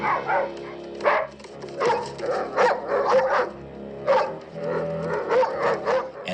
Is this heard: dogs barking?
yes